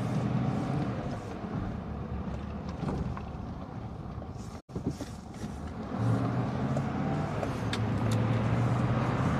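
A car driving along steadily, a low continuous engine and road rumble with a brief dropout midway, then the drone resumes, slightly louder, with no talking.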